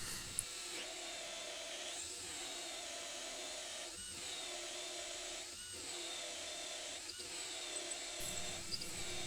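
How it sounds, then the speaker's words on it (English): A new 1 3/8 inch hole saw cutting through white oak, a continuous loud whining buzz with the pitch sagging and recovering in regular dips as the cutter bites and struggles. "This is a brand new hole saw. It's 1 3/8 of an inch, and you can see sometimes it buzzes right through the white oak"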